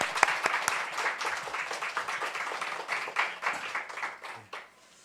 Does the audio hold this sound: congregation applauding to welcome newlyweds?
yes